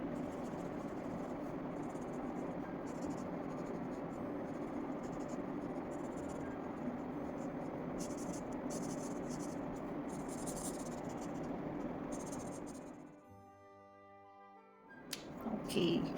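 Colored pencils scratch across paper in a steady, continuous scraping stroke, close and even for most of the stretch before briefly falling away to near silence.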